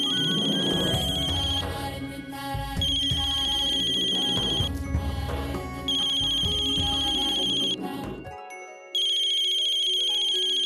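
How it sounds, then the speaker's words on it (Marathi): Mobile phone ringtone playing a looping electronic melody in repeated bursts with short gaps, loud and close, partly layered over background music, with no talk. "अगं फोन वाजतोय बघ की"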